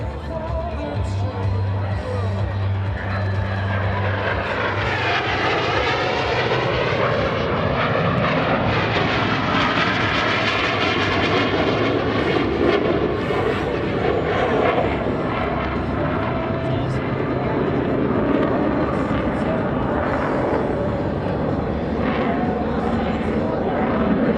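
US Navy Blue Angels F-18 jets roar overhead at an airshow, a loud sustained engine rumble and whine that swells and shifts in pitch as they pass, with a public-address voice and crowd faintly underneath.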